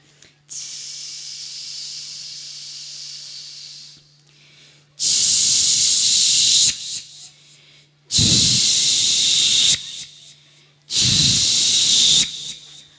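A voice imitates a pressure cooker hissing while curry cooks, with one long, steady hiss followed by three louder bursts of steam that start and stop sharply, each lasting about one to two seconds and separated by short pauses.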